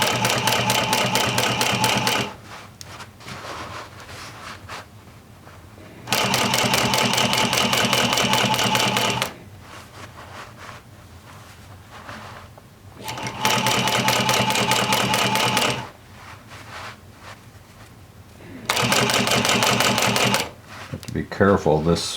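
A sewing machine works a long jeans seam in four loud, even runs of a few seconds each, separated by quiet pauses while the fabric is realigned.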